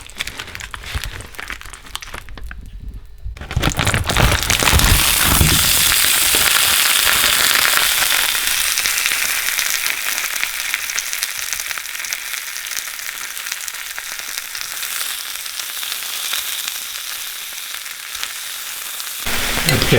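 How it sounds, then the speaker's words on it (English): Venison pieces browning in a pan over high heat for a bear bone broth stew, a loud, dense, continuous sizzle and crackle that jumps in after a quieter opening and holds steadily to the end, with no talking. "Okay, these have mostly browned on high heat"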